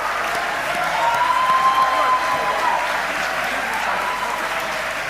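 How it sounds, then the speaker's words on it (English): Applause at a state Australian of the Year awards ceremony, a broad, steady wave of clapping from a large seated audience, loud and sustained with faint voices and cheers mixed in, easing slightly toward the end. "An extra round of applause for Malcolm."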